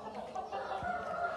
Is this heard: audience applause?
no